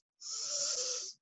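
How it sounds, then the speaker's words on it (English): A single slow inhalation drawn in through the nose: a soft, airy hiss lasting about a second, heard alone in a quiet room. "we are going to just take some inhalations in the nose"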